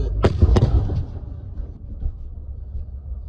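Explosions from a strike on an evening in the Zhytomyr region, Ukraine: two sharp, loud blasts in quick succession followed by a low rumbling aftermath that fades into a steady background.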